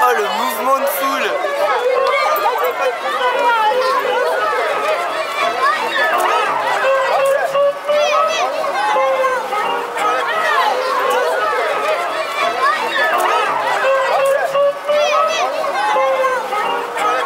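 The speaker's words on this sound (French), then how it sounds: "Oh, le mouvement de foule." A dense crowd of chattering voices, children among them, with the shuffle and bustle of people surging and running, steady and loud throughout, at a travelling cinema event.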